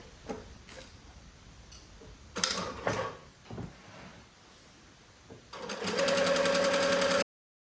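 A sewing machine runs a long basting stitch on shorts fabric, starting with scattered clicks and handling knocks before a quick, steady stitching whir near the end that stops abruptly.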